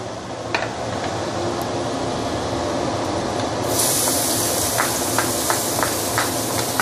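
Oil poured into a wok holding leftover luncheon meat drippings, a steady loud hiss and sizzle that brightens sharply partway through, with small crackles popping over it.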